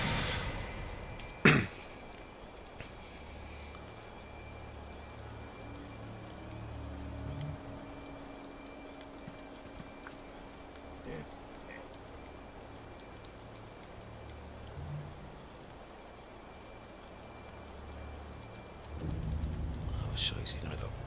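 Steady rain with low rumbling thunder fills a stormy scene in the video game Sekiro: Shadows Die Twice, a constant wash under a sharp crack early on and heavier rumble near the end, with a voice talking over it at times.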